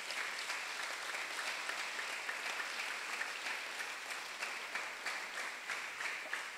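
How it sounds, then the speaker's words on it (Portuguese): A church congregation applauds together, a steady, dense wash of many hands clapping at moderate distance, holding evenly throughout with no talk over it. "Pode aplaudir o Senhor, irmão,"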